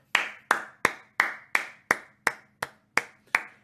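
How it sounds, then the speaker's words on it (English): Someone claps their hands about ten times at a steady, brisk pace, each clap sharp and close with nothing else audible. "I had to clap."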